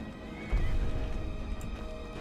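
Horse neighing and whinnying in the video game Skyrim over steady hoof clip-clop and background clamor, loud and close, with no talking.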